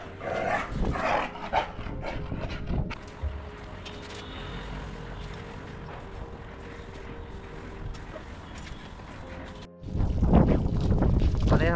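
A dog barks in sharp bursts at the start, then wind and water noise take over before louder barking returns near the end.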